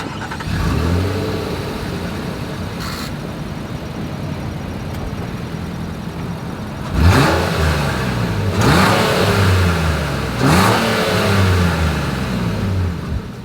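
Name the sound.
2023 Nissan Pathfinder exhaust revving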